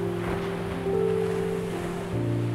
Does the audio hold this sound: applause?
no